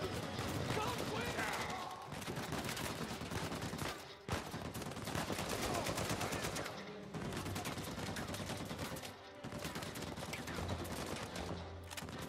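Dense, rapid gunfire in Uncharted 4, sustained bursts of heavy automatic weapons with brief pauses, loud and close, with someone speaking over the shooting.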